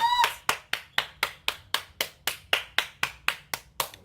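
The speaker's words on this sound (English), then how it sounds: "That's a round of applause." Sharp, evenly spaced hand claps ring out close by, roughly four per second in a steady rhythm, each crisp and distinct with nothing else heard.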